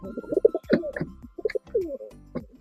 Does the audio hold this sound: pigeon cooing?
yes